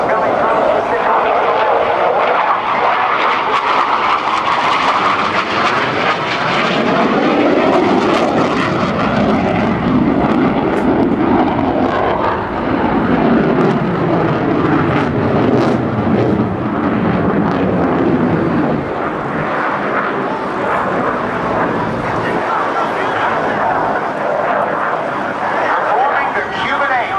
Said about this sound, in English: Outstanding one-to-one thrust-to-weight ratio of the CF-18.